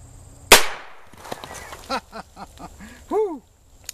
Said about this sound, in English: I don't shoot this old revolver very often.